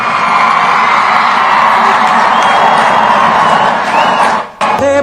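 A large political rally crowd roars and claps with sustained cheering, a dense, loud wall of voices and applause that holds steady before briefly dipping near the end.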